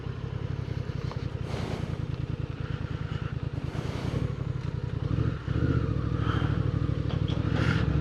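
A motorcycle being ridden on the road, its engine holding a steady, loud droning hum with a brief dip partway through before it resumes at an even pace.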